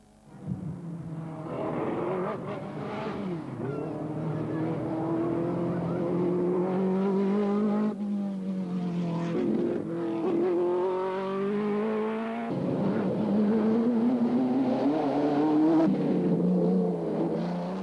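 Ferrari Daytona Group 4 race car on a rally special stage at Valliguière in the Tour Auto, its engine loud and close, revving hard with rising gear pulls and brief lifts throughout.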